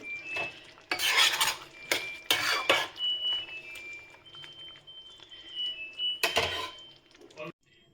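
Paneer chilli in a pan with a splash of vinegar, stirred with a utensil that scrapes and clatters against the metal in irregular bursts over a low, steady sizzle.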